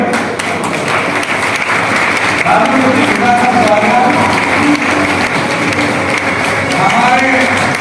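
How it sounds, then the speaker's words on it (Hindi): Sustained loud applause from a large gathering at a Jangid community assembly welcoming the local MLA, a dense continuous wash of clapping with voices and crowd noise mixed in. "जोरदार तालियों से स्वागत।"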